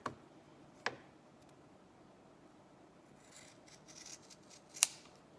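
Scissors snip through excess fabric strip for hospital mask ties: two or three crisp, brief cuts spaced seconds apart, close and quiet against a soft room background, with faint rustling of cloth between them.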